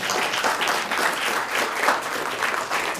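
An audience at a mathemagician's lecture breaks into a round of applause, loud and sustained, with many hands clapping in a steady, dense roar.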